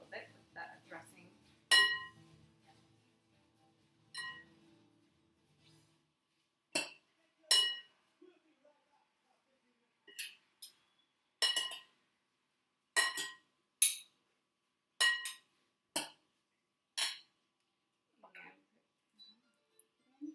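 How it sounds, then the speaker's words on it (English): Utensils clink sharply and sporadically against a plate or bowl while a tempeh and mushroom salad is tossed with dressing, the bright taps irregular and separated by quiet gaps, with faint speech early on. "First I'm going to mix up this salad a little bit with that dressing"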